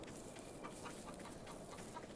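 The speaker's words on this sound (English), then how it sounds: "Oh, there's chickens here." Chickens clucking softly in the survival game HumanitZ, a faint scattered cackle over a steady ambient game hiss, no talk.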